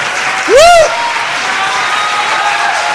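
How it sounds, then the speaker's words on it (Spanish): Church congregation applauding during a Spanish-language worship sermon, a steady wash of clapping throughout, briefly overlapped by a sung or voiced rising tone near the start. "Dale un fuerte aplauso al Rey de Reyes y Señor de los Señores."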